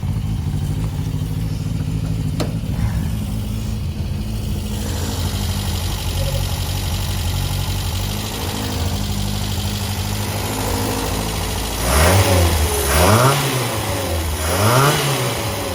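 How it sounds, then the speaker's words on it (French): A Renault 5 Turbo engine, run naturally aspirated in a Renault 4 with a new battery and cleaned contact-breaker points, idles steadily up close, then gets several sharp revs near the end. "c'est un moteur d'R5 turbo"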